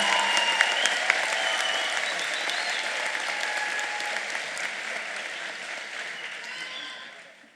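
A university awards ceremony audience applauds the award recipients with dense, loud, sustained clapping from a large crowd, which carries on evenly and then fades out at the very end.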